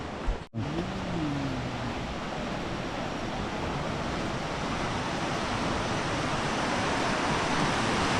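The flood-swollen Trishuli river rushes past in a loud, unbroken roar of churning water, with a brief knock and a faint tonal sweep near the start before the torrent continues alone.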